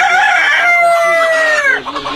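A Fayoumi rooster on a poultry farm crows loudly and close by in a single long, wavering cock-a-doodle-doo, with faint clucking from other chickens around it.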